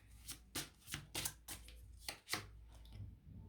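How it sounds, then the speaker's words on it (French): Oracle cards are drawn and handled from a deck in a series of soft, close shuffling and slapping flicks, about eight quick bursts in an irregular rhythm, fairly quiet, with no voice. "On va rajouter une carte."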